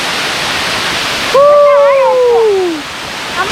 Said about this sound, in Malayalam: ആ പല തട്ടുകളായിട്ട് വെള്ളം വീഴുന്ന എന്താ ഭംഗി